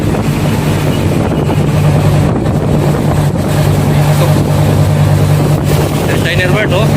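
Strong wind and waves batter a boat at sea in a dangerous situation, a steady loud roar of wind buffeting the microphone with a low engine hum and water rushing beneath, continuous throughout.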